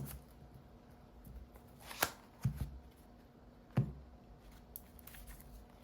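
Tarot cards handled and drawn from a deck, a few sharp soft slaps and riffling flicks spaced through a quiet room, close and fairly faint.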